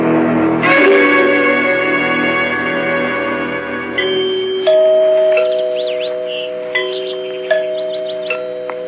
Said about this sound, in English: Did you hear the chimes?